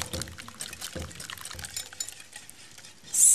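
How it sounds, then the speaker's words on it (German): Hot milk is poured into a mixture in a kitchen and stirred, making soft liquid splashes and scraping stir sounds at close range, with a louder hiss near the end. "Jetzt gieße ich gerade die heiße Milch hinein und rühre das ganz gut."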